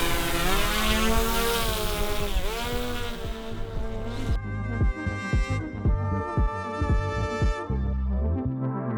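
A camera drone lifts off at a track where an NA6 Miata racecar is being tuned, its loud buzzing propeller whine rising in pitch and then settling into a steady hovering drone with fluctuating tones.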